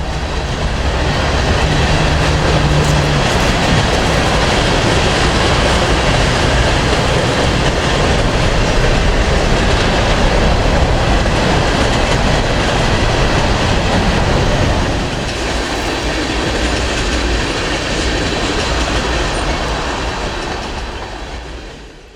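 A long train crosses the US 301 overpass in Ocala, Florida, a loud steady roar of wheels with rhythmic clickety-clack and faint squeal, close by for about fifteen seconds before easing off slightly, no talk.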